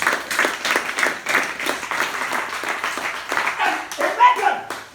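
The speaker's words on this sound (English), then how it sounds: "Clap for Jesus" A church congregation at an Easter Sunday service claps steadily in a fast, rhythmic beat, close and lively, with voices mixed in throughout.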